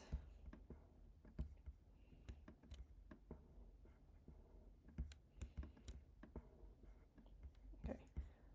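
Rapid keyboard taps and mouse clicks during photo editing come in irregular, close bursts, with faint background murmur underneath.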